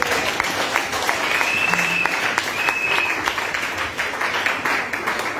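A church congregation at a seminar applauds together, a steady dense wash of clapping that stays loud and even throughout, with faint voices mixed in.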